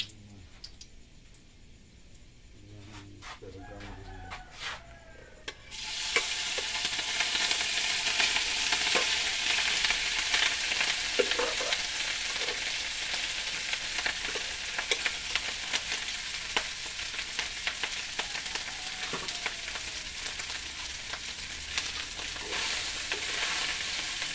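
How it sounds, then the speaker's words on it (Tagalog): Garlic frying in a pan: after a few quiet seconds of faint clicks and stirring, a loud steady sizzle starts and crackles on continuously. "Masarap yung tunog yung bawang."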